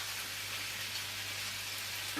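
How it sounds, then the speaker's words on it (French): Salmon fillets frying skin-side down in melted butter in a pan, a faint, even hiss of sizzling fat with a low steady hum beneath and a small clatter near the end. "Dès que le beurre est fondu, nous allons déposer nos deux pavés de saumon."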